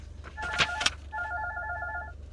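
An indoor telephone rings twice in a quiet room, each electronic ring a steady double-toned trill lasting about a second, heard at moderate volume without talk.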